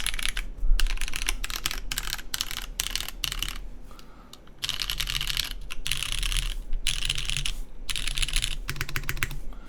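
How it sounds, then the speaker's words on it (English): Rapid typing on a CK Touchstone top-mount mechanical keyboard with an FR4 plate, including 2U numpad keys, giving dense, crisp clacks in quick bursts with short pauses, close and loud. "Love 2U keys on the numpad. Always such a nice sound to them."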